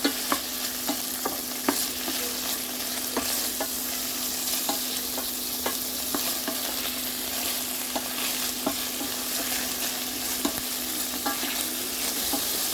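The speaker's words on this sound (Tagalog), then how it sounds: "And now let's add all our capsicums. Let's fry for 1 minute." Capsicums fry in a pan with a steady, close sizzle, broken by frequent clicks and scrapes of stirring throughout, with no voices.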